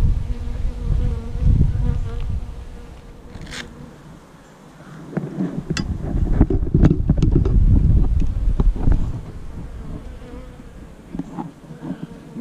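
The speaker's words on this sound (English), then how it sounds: "this bee trying to drag something out of the hive here." Honeybees fly around the entrance of an outdoor beehive where one is dragging debris out. Their buzzing is close and continuous, rising and falling as individual bees pass the microphone, with some wind rumble underneath.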